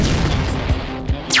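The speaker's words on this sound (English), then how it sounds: "here I'm actually trying the triple shot shooter for the first time, and as you can see it shoots several bullets" Rapid bursts of gunfire from the triple shot shooter in the mobile AR game War Planes AR come as booming shots over a dense, continuous roar, with a rising whoosh at the end.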